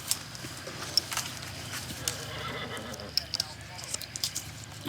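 A racehorse at a horse race gives faint whinnies and hoof clip-clops, scattered and intermittent under steady background noise.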